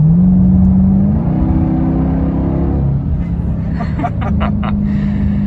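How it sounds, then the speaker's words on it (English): A 2021 Dodge Durango Hellcat engine roars steadily up close, its deep muscle-car exhaust rumble topped by a high supercharger whine that shifts pitch as it accelerates. "It's a great combination with that supercharger whine and the muscle car exhaust."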